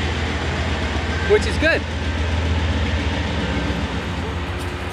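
CSX train 264 pulling out near the Hoosac Tunnel, a steady low rumble and broad wash of rail noise running throughout, with a person talking briefly over it.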